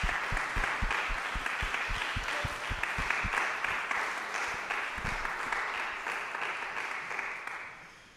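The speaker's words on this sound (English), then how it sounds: "Can we give them a round of applause?" An audience applauds a group of string quartet students at a summer music institute, a fairly soft, even wash of clapping with a few louder nearby claps early on, fading out at the end.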